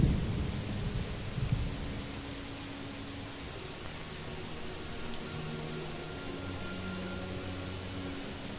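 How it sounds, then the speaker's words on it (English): Steady rain hisses in Morrowind while low thunder rumbles and rolls beneath it, a dense even downpour with a louder rumble near the start. "Oh, it's raining"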